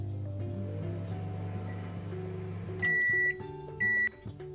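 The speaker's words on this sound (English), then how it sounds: "It is the microwave sound." A microwave oven hums steadily at first, then its hum cuts off and two loud, sustained electronic beeps sound close by, with no talk.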